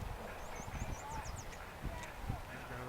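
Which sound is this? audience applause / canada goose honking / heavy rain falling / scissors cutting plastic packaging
canada goose honking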